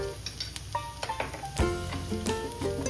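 Green chillies are sautéed in a pan for Kerala-style beetroot thoran, with a soft, steady sizzle under light spoon scrapes and clinks on the pan.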